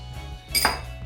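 Activated yeast stirred into olive oil in a bowl for bread dough, a brief close clink and scrape of a utensil against the bowl over a low hum.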